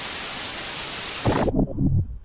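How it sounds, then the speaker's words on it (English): A white noise track plays as a loud, steady broadband hiss that cuts off abruptly, with a voice starting to speak just before the hiss ends. "white noise"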